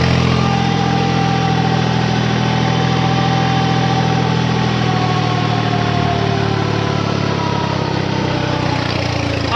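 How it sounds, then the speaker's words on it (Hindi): A 3630 Rocket tractor engine idles loudly and close, a steady low diesel rumble with a constant throb that runs unchanged throughout. "700 RPM से उठ के वापिस गया ट्रैक्टर"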